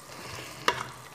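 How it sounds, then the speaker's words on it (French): Tomatoes, onion and chicken sautéing in a pan with a little water, giving a soft steady sizzle and a brief stirring scrape near the end, with no voices. "pour faire revenir les tomates, l'oignon et le poulet pour que ça ne colle pas."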